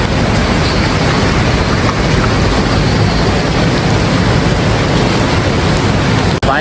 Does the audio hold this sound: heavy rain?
yes